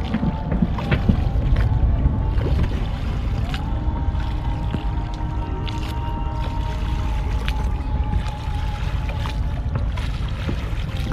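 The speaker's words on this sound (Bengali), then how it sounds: "বইটার যেই ছলক ছলক শব্দ এটা শোনা যাচ্ছে। এই যে উনি বইটা চালাচ্ছে, বইটার জোরেই কিন্তু আসলে এই নৌকাটা চলছে।" A rowing boat moves on the Buriganga river at Bosila, Dhaka, in the evening, its oar splashing and churning the water in a steady wash close to the microphone, with a faint hum and wind in the background and no voices.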